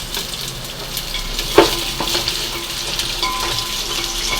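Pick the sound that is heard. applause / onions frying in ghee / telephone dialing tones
onions frying in ghee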